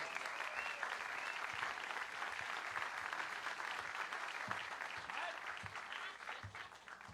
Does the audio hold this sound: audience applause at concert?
yes